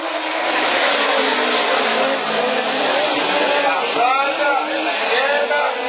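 Rallycross cars, including a DS3, roaring past at high revs amid tire squeals and skidding at a European championship Super 1600 event, a dense, loud motorsport din with faint crowd or commentary voices beneath.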